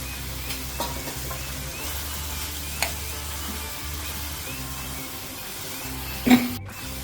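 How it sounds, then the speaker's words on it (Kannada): Boiled brain stirred into masala frying in a pan, a steady moderate sizzle with occasional spoon scrapes and one sharper clink near the end. "ಈಗ ಇದಕ್ಕೆ ನಾವು ಕುದಿಸ್ಕೊಂಡಿರೋ ಬ್ರೈನ್ ಆ್ಯಡ್ ಮಾಡೋಣ"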